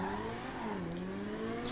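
A car accelerating hard from about 70 mph at the start of a road race, its engine note rising steadily and droning loud and close throughout, with a faint tire squeal.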